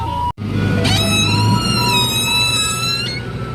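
Small garbage truck's compactor in Tainan grinding and straining with a loud abnormal noise, a sustained harmonic squeal rising over a deep motor rumble for a couple of seconds, close and continuous.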